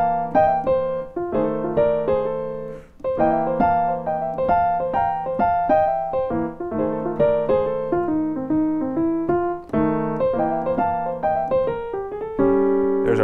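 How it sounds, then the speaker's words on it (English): A jazz piano plays a blues turnaround, moving through rich chord voicings with single-note runs between them, clear and close, with no voices. "Now if we wanted to do that jazz turnaround on there"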